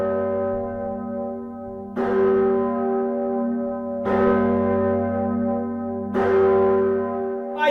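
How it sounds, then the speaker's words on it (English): A large church bell tolls three times at even intervals, each deep strike ringing out and slowly fading into the next. "What if we put a gigantically big church bell on our bikes?"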